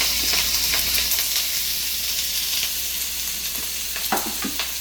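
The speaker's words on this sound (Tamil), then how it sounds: "பாருங்க, வெங்காயம், பச்சை மிளகாய் போட்டு வதக்கி விட்டுறேன்." Onion and green chillies sautéing in hot oil for a vegetable curry: a continuous close sizzle with occasional soft scrapes and knocks from a stirring spoon, no voices.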